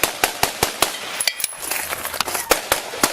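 Rapid bursts of gunfire ring out during a police shootout between Pasco officers and murder suspects, a dozen or so sharp, loud cracks in an irregular volley, some clustered together and others spaced apart, with no talk.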